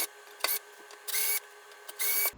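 Power driver whirring in three short bursts as it backs screws out of a Peavey T-60 electric guitar, close and loud, with brief quiet gaps between runs.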